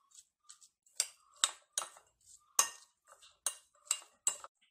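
Spoon clinking against a bowl while ripe papaya salad is stirred with salt, a series of light, sharp taps and scrapes at an uneven pace, fairly close and clear with quiet gaps between strokes.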